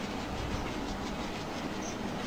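A freight train runs along the track in the Train Simulator game, a steady rumbling roll with faint rhythmic clatter of wheels, continuous and fairly close, with no talk.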